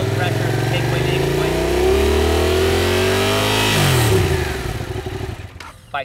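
A motorcycle engine revs under initial throttle while leaning into a corner, a loud, close, rising engine note that holds and then drops as the throttle eases, fading near the end.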